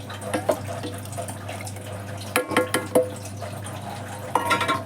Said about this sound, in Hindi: तो ये डाल दिया जो एक्स्ट्रा पानी